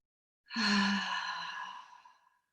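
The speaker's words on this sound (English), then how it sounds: "Breathe in through the nose and very softly exhale through the mouth." A single soft, slow exhale through the mouth, breathy and gently fading over about two seconds, heard alone during a beginners' yoga breathing exercise.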